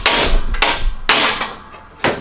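Heavy hammer blows striking a shop press used as a makeshift hammering station, four sharp metallic impacts at uneven intervals, loud and close with ringing decay between hits.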